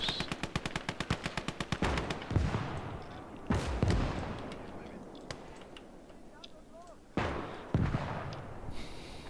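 Battlefield gunfire in a strategy video game: a rapid machine-gun burst opens, followed by several heavy, loud artillery blasts and explosions spaced apart, with rumbling between them.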